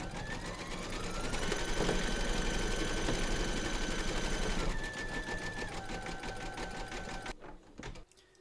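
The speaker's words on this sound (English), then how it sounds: "Load your matching bobbin and thread colour for the satin stitching of the hand into your machine, and then stitch round number 8" An embroidery machine satin stitches a hand in flesh pink thread, a loud, continuous, rhythmic mechanical chatter that runs for about seven seconds before stopping, followed by faint clicks.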